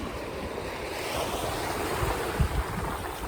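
Ocean waves break and wash over tumbling rocks along a shoreline, a steady broadband roar with wind buffeting the microphone and a slightly louder surge near the end.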